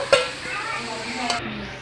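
Potatoes frying in hot oil give a steady, close sizzle, with a couple of brief clinks from stirring.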